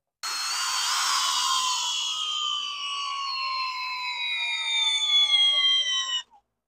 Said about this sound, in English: we got the Hercules. We're in speed 1, in drill mode